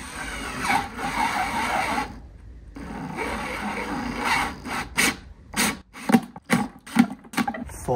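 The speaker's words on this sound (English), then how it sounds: "what I'm going to do is drill four holes in the bottom of the bucket" A power drill whirs while boring holes in the bottom of a bucket, in several bursts, the first long and steady, then a series of short rapid pulses with brief pauses between.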